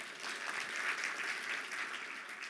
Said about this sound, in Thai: ขอเสียงปรบมืออีกครั้งหนึ่งนะครับ